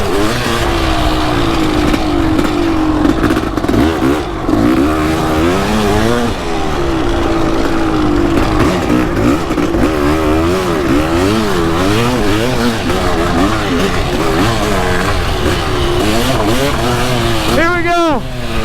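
Kawasaki KX500 dirt bike engine revving loudly and continuously, its pitch sweeping up and down in repeated throttle blips, close by and dominant throughout, with a sharp rising rev near the end.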